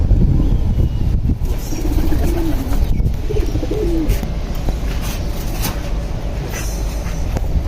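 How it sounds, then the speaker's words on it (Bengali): Old-breed racing pigeons coo close and loud in a loft, repeated rolling calls over a dense background of other birds and rustling, continuing throughout. "সব পুরান জাতের কবুতর এগুলা"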